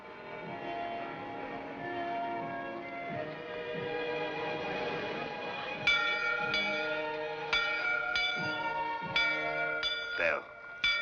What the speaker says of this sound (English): Bell. I always liked bells.